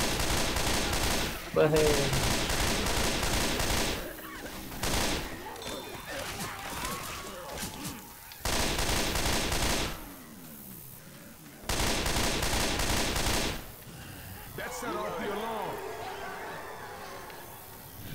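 Gunfire in the video game Left 4 Dead 2: long, dense bursts of rapid automatic shots in several loud stretches separated by quieter gaps, with players talking between and over them.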